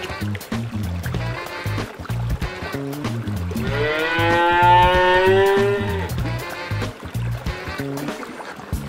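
A cow in an animated farmyard scene with a crocodile gives one long, drawn-out moo midway, over a rhythmic musical backing.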